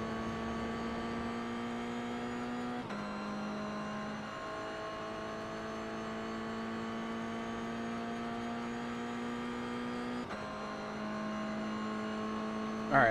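A race car pulling out of the pits in the iRacing sim at Interlagos during a Toyota GR86 production car race, a steady engine drone with shifting tones and brief gear-change breaks, held at even loudness throughout.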